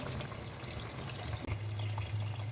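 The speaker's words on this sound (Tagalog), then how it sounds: "Lagyan na natin ng tubig." Water is poured into a cooking pot for a Filipino tinolang manok chicken soup with upo gourd, a steady rushing splash that briefly pauses and resumes with a deeper, fuller gush, close and alone.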